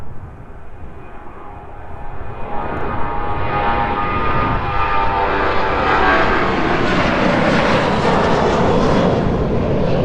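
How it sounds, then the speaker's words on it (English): A Jet2 airliner departs East Midlands Airport, its engine roar building steadily from a moderate rumble to a loud, sustained broadband roar that stays full and close through the end. "Now the departing aircraft this afternoon being buffeted ever so slightly by a crosswind."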